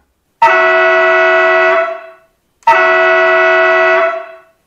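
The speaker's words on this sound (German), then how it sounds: "Anstelle des Schaffnerpfiffs gibt es ein Signalhorn." Signal horn from a Märklin 55326 gauge 1 (1:32) Wiebe construction locomotive No. 7, V 320 001, sounding through its sound decoder: two loud, steady blasts of about a second and a half each, separated by a short gap, with no talking.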